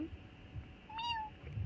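A cat meows once in the Dragon's Dogma 2 video game, a single rising and falling call heard clearly over a low, murmuring game background.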